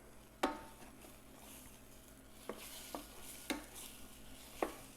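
Fresh eggs sizzle softly in a pan for a tomato egg stir fry, a low quiet hiss broken by five sharp clicks and taps of a utensil against the pan, spaced irregularly.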